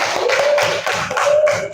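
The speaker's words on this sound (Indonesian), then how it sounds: "tepuk tangan dulu untuk kelompok 1" Students in a classroom clap together for a student group, a steady burst of close, brisk hand claps filling the whole short stretch with no talking over it.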